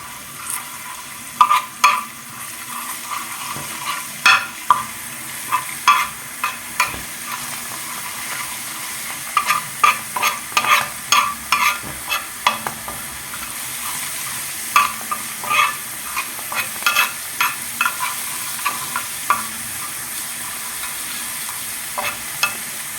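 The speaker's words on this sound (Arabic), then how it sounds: "حطينا معلقة سمنة على شوية توم وكزبرة برضو حمرهم." Garlic and coriander fry in ghee for Egyptian fatta, a constant sizzle broken by frequent scraping stirs of a spoon in the pan, close and steady throughout.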